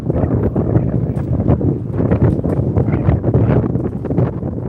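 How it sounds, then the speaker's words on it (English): Wind buffets the microphone with a steady, rough rumble outdoors, loud and continuous throughout. "It's windy out here, y'all. It's windy."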